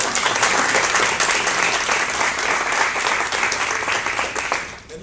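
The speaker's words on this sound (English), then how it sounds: "Let's give Kathy a round of applause." Sustained audience applause at a mayoral press conference at the Salvation Army, a dense steady clapping from a room of people that holds loud for about five seconds before easing slightly at the end.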